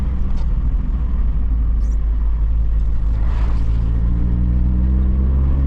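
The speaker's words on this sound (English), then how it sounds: "you can hear it misfiring and then it catches" A Vauxhall Cavalier Mk2 with the C20LET turbo engine idles unevenly close up, its low rumble stumbling with misfires before catching and steadying into a continuous running note.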